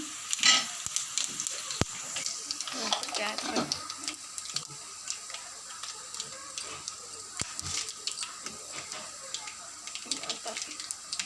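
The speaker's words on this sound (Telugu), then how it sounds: "ఎండుమిర్చి జీలకర్ర వేస్తున్నాను" Dried red chillies and cumin seeds sizzle in hot oil as a tempering for okra fry: a steady close crackle with sharp scattered pops and a few clinks.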